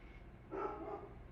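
A pet dog indoors lets out one short bark-like yelp midway through, quiet and somewhat distant over a faint room hum.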